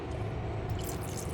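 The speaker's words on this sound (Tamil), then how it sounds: "தண்ணியை ஊற்றிக்கிறேன்." Water pours into a pan of brinjal kulambu, a steady liquid splashing and dribbling fill, close and continuous, with no speech.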